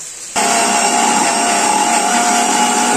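A loud electric mixer grinder starts abruptly and runs at a steady high-pitched whir, grinding ginger, garlic and chillies into a paste.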